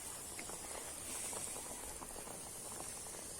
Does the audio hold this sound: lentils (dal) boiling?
yes